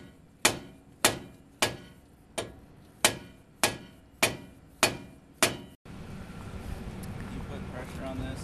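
Nine sharp metal hammer blows land about every half second on steel during a truck repair, ringing close and loud, then give way to a steady low rumble of background noise.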